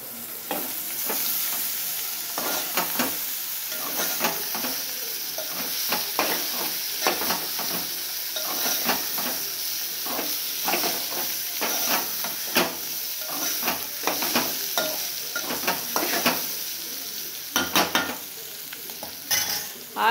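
Capsicum curry sizzles and fries in a pan, with a steady hiss throughout. A utensil scrapes and taps at an irregular rhythm as the curry is stirred, loud and close, with no talking.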